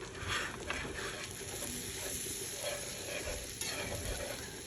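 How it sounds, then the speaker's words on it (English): Whisk or spoon working a blonde roux of butter and flour around a hot pan for a white cream sauce, a steady soft sizzle with scraping strokes throughout, close and even, no talking. "this is going to make a roux, and a roux is a binding agent"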